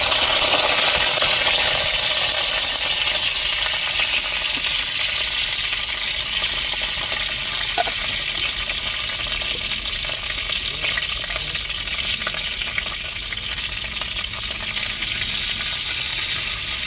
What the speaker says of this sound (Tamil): இப்போ கத்திரிக்காயை நம்ம வெட்டி வச்சுருக்க கத்திரிக்காயை எண்ணெயில் நல்லா வதக்கி எடுத்துக்கிடுவோம்